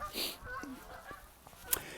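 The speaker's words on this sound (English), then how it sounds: "Some lovely geese going over." A few goose honks pass overhead at a distance, faint and intermittent against a quiet outdoor background.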